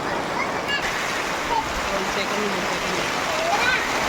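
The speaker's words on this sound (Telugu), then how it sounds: "వాన పడుతుంది" Rain falling steadily outdoors at a village home, a broad continuous wash of drops that stays even and fairly close, with faint voices in the background.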